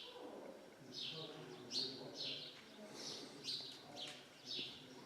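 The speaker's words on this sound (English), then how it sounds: "the beautiful bird" Wild birds singing in Chahkuh Canyon on Qeshm island, with bright repeated chirping phrases about every second over a quiet, faintly echoing background.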